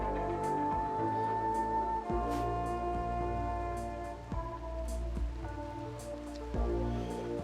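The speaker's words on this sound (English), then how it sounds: "Okay, foggy rain has appeared" Foggy rain in the video game Rimworld patters as a steady, moderate rain hiss. A tonal in-game music bed and occasional soft clicks and taps sit alongside it, with no speech.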